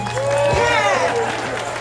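Crowd at a Unity Against Hate rally in Sacramento applauding for Lieutenant Governor Eleni Kounalakis, a dense steady wash of clapping and cheering that stays loud throughout, with a voice rising above it partway through.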